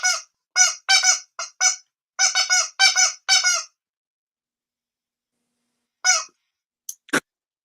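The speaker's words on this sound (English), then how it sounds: "Mrs. Goose would like to know if Mrs. Goose Senior is Mrs. Goose's mother." A goose honks in a quick run of loud, nasal calls, several close together, then falls silent before one more honk and a brief squeak near the end.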